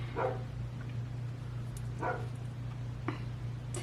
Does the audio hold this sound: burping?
no